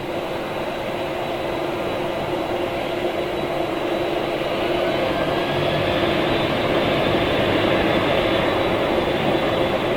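A jet airliner departing Manchester Airport in thick fog gives off a steady, broad engine roar that swells gradually and stays loud throughout, with no talking over it.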